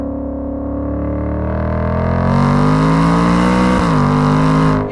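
A Shelby Super Snake Mustang accelerates hard, its exhaust note rising steadily in pitch into a loud, close roar before cutting off sharply.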